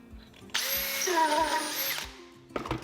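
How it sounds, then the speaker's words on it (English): A power drill whines loudly for about a second and a half as it bores through a wooden slat, starting and stopping abruptly, with a brief whir afterward. "Then I'm able to drill all the way through the slat."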